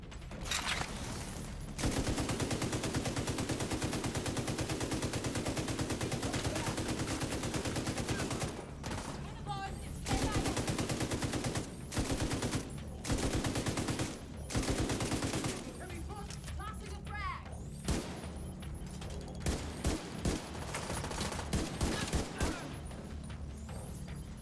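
Sustained bursts of automatic RPK-74 light machine gun fire in the video game The Division 2, loud, dense rattling volleys broken by short pauses, with a voice speaking briefly between them.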